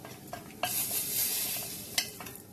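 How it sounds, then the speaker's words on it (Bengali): Ground spices such as turmeric and cumin powder sizzle in hot oil as they are stirred in a frying pan for a Bengali moong dal and ash gourd ghonto. A loud, continuous hiss with scraping stir strokes, close up and with no voices. "ফোড়নগুলো ভাজা ভাজা হয়ে গেছে, এবার একে একে গুঁড়ো মশলাগুলো দিয়ে দিচ্ছি।"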